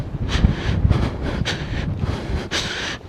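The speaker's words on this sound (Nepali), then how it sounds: "बडा हावा चलिरहेको छ।" Strong wind buffets the microphone on a mountain trail on the Langtang trek near Kyanjin Ri, a loud, continuous rumbling roar with gusty surges and no talk over it.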